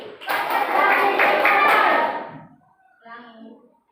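Schoolchildren in a classroom do a rhythmic concentration clapping game, a dense burst of group claps and chanting lasting about two seconds, then fading, followed by a brief voice.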